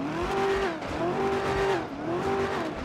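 Car engine revving in GTA 5 during a police patrol mod, loud repeated rises and falls in pitch, three rev cycles held near and steady with no talk.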